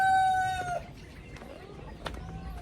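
Chickens and young chicks on a farm make a short, clear crow-like call, followed by scattered clucks and peeps over low background noise.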